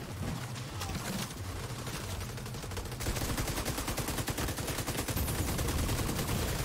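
Automated turrets fire at an enemy in the video game The Division 2, a dense rattle of rapid gunfire that grows louder and quicker halfway through and keeps going with no pause.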